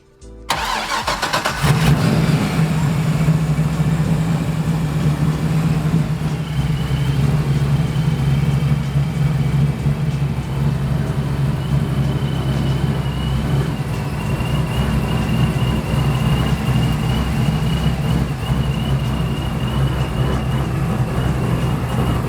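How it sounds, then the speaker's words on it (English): A BMW E36 fitted with an LS2 V8 and new fuel rails cranks and fires up, then settles into a loud, steady, lumpy idle that runs on unbroken. "so I'm gonna fire it up and we'll see what happens."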